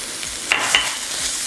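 Minced garlic sizzles in a pan of fried mushroom and bacon, a close steady hiss with two quick utensil clicks as the mixture is tossed.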